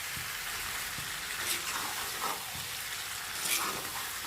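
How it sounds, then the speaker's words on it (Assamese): Duck curry with ash gourd is stirred in a frying pan, producing a soft continuous sizzle with scraping strokes of the spoon every couple of seconds. "ভালকৈ লৰাই দিছোঁ। গোটেইখিনি একেলগে মিক্স কৰি দিছোঁ।"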